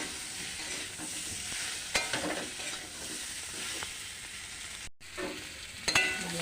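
Onion, garlic, ginger and cumin pastes fry in a pan with salt, turmeric and other spices, giving a soft, steady sizzle broken by scraping stir strokes and a brief dropout near the end.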